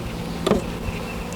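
Honey bees hum around the top of a hive as it is moved, a close, steady buzz with one brief louder swell as a bee passes near.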